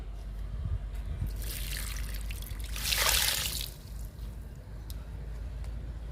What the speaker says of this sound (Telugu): ఈ ఫుడ్ పెట్టిన మొక్కలన్నిటికీ వాటర్ ఇచ్చేద్దాము